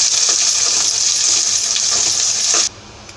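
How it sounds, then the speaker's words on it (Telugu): A tadka of spices crackles and sizzles in hot oil, a loud, close, steady hiss with small pops that cuts off abruptly near the end. "ఈ విధంగా తాలింపు పెట్టేసుకోవాలండి"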